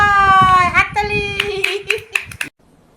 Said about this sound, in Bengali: ওই দেখো 6 হাততালি।